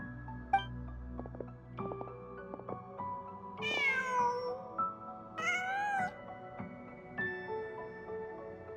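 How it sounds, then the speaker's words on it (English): A cat meowing in the video game Genshin Impact, several clear rising meows spaced across a few seconds over soft game music, close and distinct. "just a cat."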